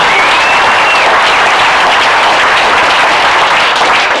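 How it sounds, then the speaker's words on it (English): A live audience at an electric-vehicle event in Austin, Texas breaks into dense, sustained applause, loud and close, a continuous wash of many hands clapping at once. "give yourselves a hand for being here this weekend"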